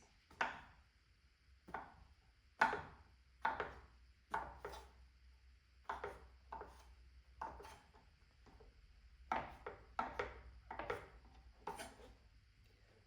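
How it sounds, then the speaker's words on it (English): Knife chopping mushrooms into bite-size pieces on a board: a series of quiet, sharp single taps in an uneven rhythm, about a dozen strokes spaced roughly a second apart, close and alone. "I'm going to get all of my mushrooms and I'm going to chop them up into nice"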